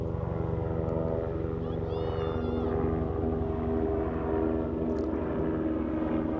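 A helicopter passes overhead outdoors among rocks, giving a steady, fairly faint rotor drone and rumble that stays even throughout, with occasional faint background sounds on top.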